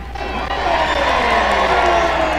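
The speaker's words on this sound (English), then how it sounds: "And then when they're running, it's loud out there. You can hear the crowd for sure." A race crowd roars and cheers in a steady, loud wash of many voices with occasional whoops, sustained without pause throughout.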